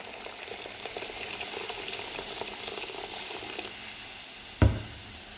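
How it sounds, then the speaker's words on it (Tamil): Mutton curry simmering in a pot gives a steady bubbling, sizzling hiss throughout, ending in a sharp knock near the close. "பாருங்கள் கொதி வந்துருச்சு இப்போ கொஞ்சம் தண்ணி ஊற்றுவோம்"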